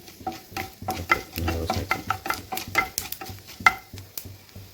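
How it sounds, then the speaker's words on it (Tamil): Fennel seeds roasting in a pan for moringa soup, stirred with a utensil: quick scraping strokes and light metallic clicks repeat close up over a faint sizzle. "பெருஞ்சீரகம் போட்டாச்சு கொஞ்சம் ரோஸ்ட் ஆகட்டும்"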